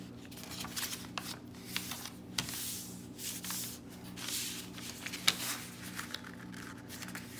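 A sheet of drawing paper is folded to form a grid, with soft crinkling, sliding and creasing rustles close by, and a few sharper crisp creases. No talking.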